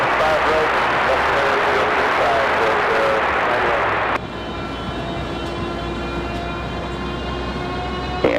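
A Delta CRJ regional jet takes off from runway 5 right at Raleigh-Durham International, a loud broad roar that drops abruptly partway through to a steadier whine with tonal engine lines, with faint radio talk.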